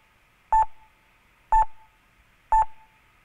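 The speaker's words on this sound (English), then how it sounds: "Whenever there's no beep, there's a slight hissing that I feel like we can also work with" Three evenly spaced electronic beeps about a second apart, recorded at a street intersection, each a short tone with a quick decay, over a faint steady background hiss.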